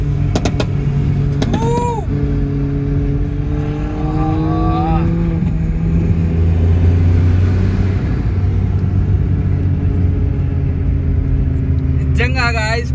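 A Volkswagen Polo pulls hard through the gears on a fast run, engine tone climbing and dropping with each shift, loud and close from inside the cabin, with talk over it.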